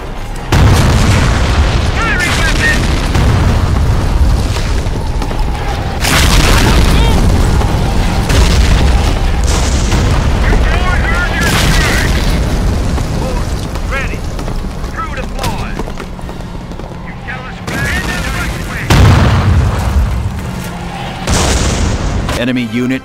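Gunfire bursts and heavy explosions from the Company of Heroes Modern Combat battle between US Army and PLA forces, with dense, continuous booms and rattling fire throughout.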